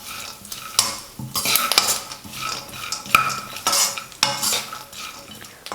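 Peanuts and cornflakes mixture ingredients roasting on a low flame, stirred in a metal pan with repeated scraping and clinking strokes, close and fairly loud, no voices.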